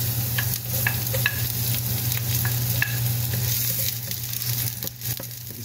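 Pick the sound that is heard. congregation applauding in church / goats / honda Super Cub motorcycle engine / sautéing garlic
sautéing garlic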